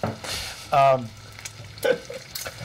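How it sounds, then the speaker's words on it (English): Seitan browning in a frying pan, with an intermittent close sizzle and brief stirring or scraping noises, a short louder burst near the middle, and quiet stretches between. "now the seitan is getting really nice and browned"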